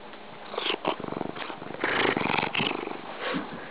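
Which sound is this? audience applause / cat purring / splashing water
cat purring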